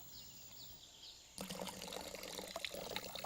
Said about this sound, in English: he came back and poured the water straight into the pail.